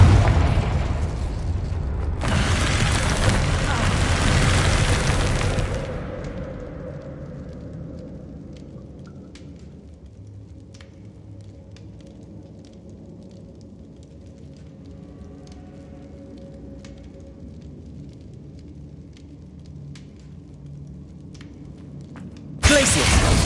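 A Confringo spell explodes in Hogwarts Legacy, a loud fiery blast with crackling debris that fades into a long quiet rumbling tail, followed by another sudden burst at the end.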